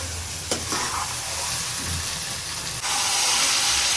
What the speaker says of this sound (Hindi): और प्याज और टमाटर की हम अच्छी से बुनाई करेंगे